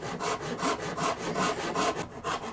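A Shinto rasp is pushed back and forth across wood while shaping an electric guitar build, giving about ten rhythmic, coarse scraping strokes close up and loud, with no voices.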